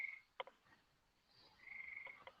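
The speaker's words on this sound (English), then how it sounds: "them frogs are heading your way. They're following that storm." Frogs croak in short bursts, a couple of sharp calls breaking through faint background chirring, fairly distant and quiet.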